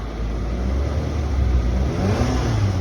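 The engine of a 2012 Nissan Rogue revs up close by, a steady mid-pitched whir that builds slightly as the throttle is pressed.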